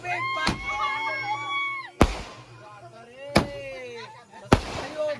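Four sharp firecracker bangs burst at irregular intervals, loud and close, over steady chatter and background voices, at a Diwali celebration in Chhattisgarh, India.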